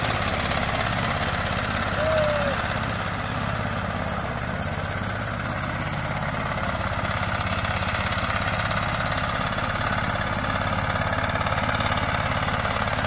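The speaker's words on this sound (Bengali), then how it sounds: "বিনা লোডেই গাড়ি চলছে" A modified XL power tiller fitted with 36 blades runs with no load, its engine droning at a steady, even idle close by throughout, with no speech.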